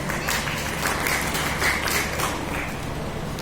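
An audience at a company foundation day celebration applauds to welcome a guest, producing a steady wash of mid-level clapping that continues throughout without any talk.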